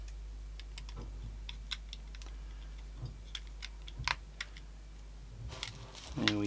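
A retro Nokia mobile phone handled up close, with a quiet series of small plastic clicks and ticks as the back cover is opened, a lever pulled and a SIM card slotted inside, ending in a slightly louder snap.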